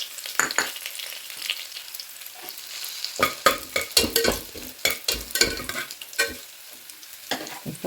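Whole spices, namely bay leaf, cardamom, cloves and fennel, fry in hot oil with a soft sizzle, broken by sharp, clustered scraping and stirring strokes close up, louder and busier in the second half.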